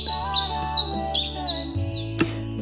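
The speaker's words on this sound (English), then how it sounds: "Your birds come to greet you, and Tui is the first to arrive." A tui calls nearby in a loud, clear run of squawks, chirps and warbling notes, with a sharp click near the end and no voices.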